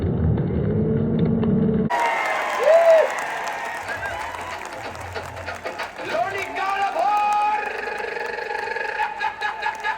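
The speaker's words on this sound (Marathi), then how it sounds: "टाळ्या करा." Applause rises from a crowd at a village wrestling match in Loni Kalbhor, a steady wash of clapping that runs for several seconds with voices and crowd noise mixed in.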